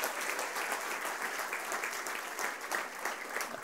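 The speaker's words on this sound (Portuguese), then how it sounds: "dê um aplauso forte para o Senhor Jesus" A church congregation applauding during a sermon, steady clapping from many hands, moderately distant, lasting a few seconds.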